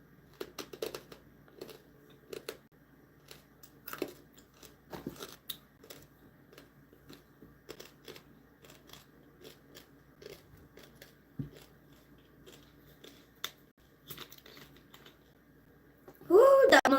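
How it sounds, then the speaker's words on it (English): Crunchy chewing of a chicharron, heard as irregular crisp crackles and bites close to the microphone, with a louder burst of crunching at the end. "I'm just eating a chicharron"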